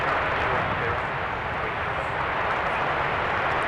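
A jet airliner roars as it takes off from runway 30 left at Minneapolis–St. Paul airport, a steady, dense, loud engine rush filling the whole moment.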